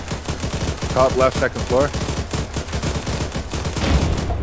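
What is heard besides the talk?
gunfire in the video game ArmA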